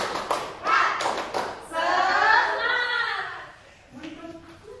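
Schoolchildren in a classroom perform the tepuk semangat clapping routine, a quick patterned series of loud, close claps followed by the group chanting together in unison.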